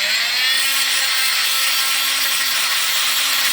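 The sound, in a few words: diamond tool sanding down grout on tile floor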